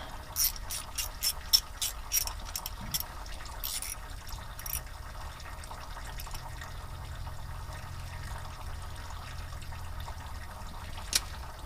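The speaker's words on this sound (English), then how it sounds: "I'm just going to go ahead and get these here tightened up a little bit." A ratchet tightens water pump bolts on a 1996 Ford F350 Power Stroke. A quick run of crisp, close clicks comes early, then sparse taps and faint workshop noise.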